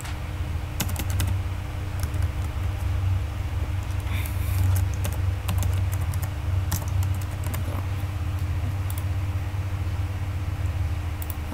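Rapid clicking of a computer keyboard as a name and email address are entered, keystrokes coming in quick bursts over a faint steady hum, close and fairly quiet.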